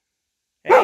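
A dog outdoors in the bush near an old 1940s cabin gives a single short, close bark after a moment of silence.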